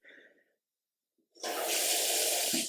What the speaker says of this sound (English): we have a sink that works.